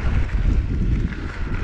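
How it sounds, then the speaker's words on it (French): Warm wind blowing across a hillside above Ascain during an e-mountain bike ride makes a steady, rumbling gust of buffeting against the microphone. "Là, il y a le vent, là, un petit vent, là."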